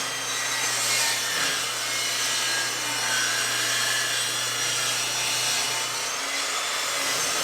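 Continuous, loud wood sawing or rubbing with a steady, rasping texture and a low background hum, cutting boards for a storage cabinet face frame; no voices.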